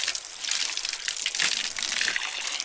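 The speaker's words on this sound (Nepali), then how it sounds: "यो पानी चाहिँ खोलेरै राख्नुपर्छ" A tap runs continuously, a steady close hiss and splash of water with no voices.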